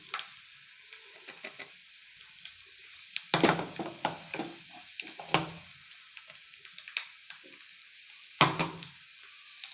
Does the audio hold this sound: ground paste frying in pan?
yes